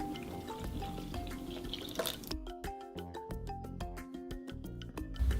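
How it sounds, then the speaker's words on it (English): Milk poured into a mixing bowl with eggs and sugar for crepe batter, a short trickling pour followed by a series of crisp dripping plinks, close and clear, with no talking. "Add milk."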